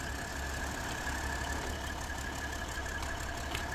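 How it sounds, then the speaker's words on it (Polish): A truck engine in the off-road driving game SnowRunner runs at a steady idle after starting, a constant low rumble with a faint knocking texture, close and alone with no talk. "odpalamy silnik."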